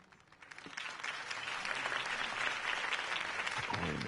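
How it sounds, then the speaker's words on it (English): A crowd applauds a campaign speech by Harvey Dent in the video game Batman: The Telltale Series, clapping swelling from sparse to a dense, sustained ovation over several seconds. "If only Mr. Wayne, my campaign's largest backer, could have heard that applause"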